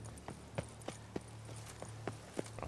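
A horse's hooves clip-clop in The Witcher 3 game, a quiet, regular walking rhythm of about a dozen hoof strikes over a low steady hum.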